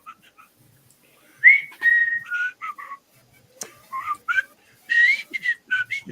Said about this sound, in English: You were whistling.